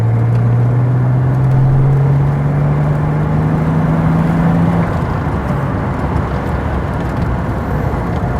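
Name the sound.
Ford Sierra XR4i engine accelerating above 3,000 rpm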